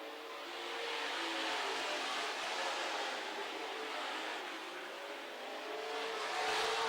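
WISSOTA Super Stock race cars on a dirt speedway oval: a dense, roaring blend of engines swelling and fading as the cars circle, heard steadily from a distance with no talk.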